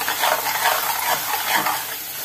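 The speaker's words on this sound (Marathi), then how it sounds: "आता गॅस मी 2 मिनिटं फुल करणार आहे आणि हे परतून घेणार आहे." Oysters sauté over a full gas flame in a pan for oyster curry, a dense steady sizzle with rhythmic stirring scrapes, close and fairly loud.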